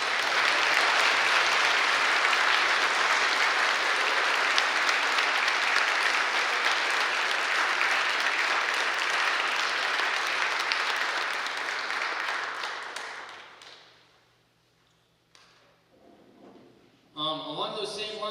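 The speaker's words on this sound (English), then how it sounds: "Please give these students a round of applause." An audience at a middle school band spring showcase claps for the students in a long, steady ovation of about thirteen seconds that then dies away, leaving near quiet before a voice briefly starts.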